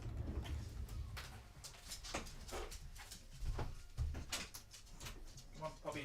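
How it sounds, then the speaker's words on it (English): A dog whimpers softly while being let outside, with faint whines mixed with door and shuffling noises and a person speaking nearby. "Just gonna let my dog out."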